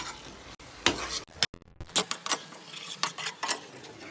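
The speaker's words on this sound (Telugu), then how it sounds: "ఇప్పుడు అన్నం వేసేసుకోవాలి మిక్స్ అయ్యేదాకా బాగా కలుపుకోవాలి" Cooked rice is stirred into melted syrup in a pan. A spoon scrapes and clinks against the metal in irregular strokes over a soft sizzle, with a few sharp knocks in between.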